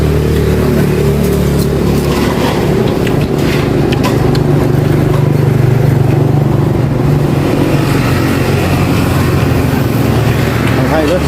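Road traffic passing a roadside beef noodle restaurant in Ban Phonxai, Laos, a constant loud engine rumble of cars and motorcycles going by, with people talking over it.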